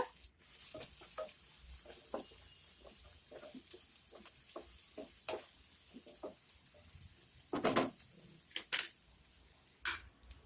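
Chopped onions, two medium-sized, fry in oil in a pan for okra poriyal, a faint steady sizzle broken by soft stirring scrapes, with a few louder clatters near the end.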